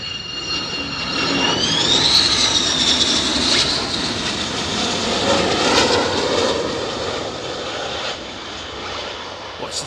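A military jet lands at RAF Lakenheath, its engine roaring loud and close with a high whine that rises and then falls as it passes. The roar holds steady for about ten seconds, with no talking.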